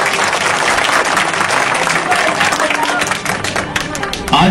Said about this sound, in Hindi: जोरदार तालियां दीजिए प्लीज।